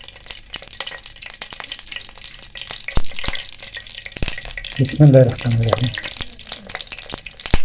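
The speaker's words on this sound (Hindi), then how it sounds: "शामी कबाब हमने ऑयल में डाल दिए, फ्राई हो रहे हैं।" Egg-dipped chicken shami kababs frying in oil, a continuous bubbling sizzle with scattered sharp crackles, swelling louder midway as more go in, while a voice speaks briefly over the cooking.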